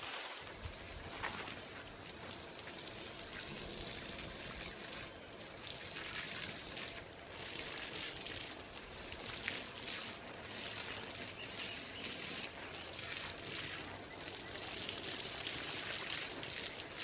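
Water poured over a freshly planted hypertufa flower pot in a garden, a steady, close splashing and trickling that runs on without pause.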